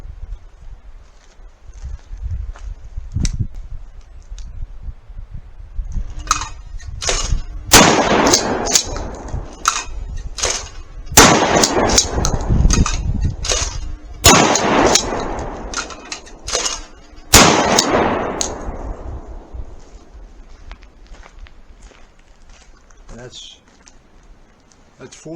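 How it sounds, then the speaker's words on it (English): Remington 870 12 gauge pump shotgun firing at thrown clay targets outdoors, a tree line about 30 yards away: repeated loud blasts with metallic clanks of the pump action in between, and birds chirping in the background. "I'm going to shoot clay pigeons from the ski throw here."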